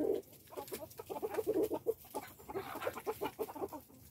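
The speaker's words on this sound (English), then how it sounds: "I'm not cool with screaming girls, screaming hens." Hens squawking and clucking in rapid, agitated bursts, several birds close by, a busy chorus of sharp calls throughout.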